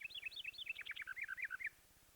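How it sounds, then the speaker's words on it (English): Small birds sing in quick, high twittering phrases during a youth stage production of Snow White and the Seven Dwarfs, faint and steady over a low electrical hum before stopping abruptly. "I can't stand your singing."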